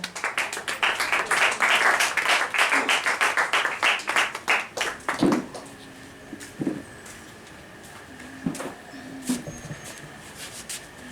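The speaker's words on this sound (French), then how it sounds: "Applaudissons pour la sœur." Rhythmic group clapping at a church service in a steady, quick beat for about five seconds, then fading into a few scattered claps and room noise.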